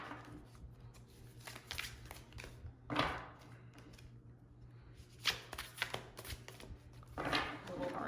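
A big, thick tarot-style deck of cards being shuffled by hand, with a few soft riffling and slapping bursts spread through quiet room tone, the louder bursts close to the listener.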